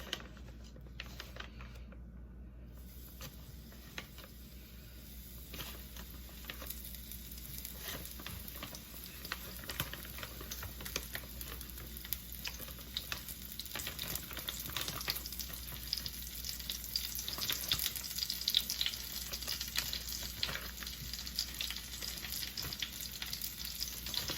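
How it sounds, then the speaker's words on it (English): Breaded coconut shrimp sizzle steadily in a pan, a fine continuous crackle with scattered pops that grows slightly louder and denser over the stretch, with no voices. "pan fry this shrimp for 2 to 3 minutes on each side"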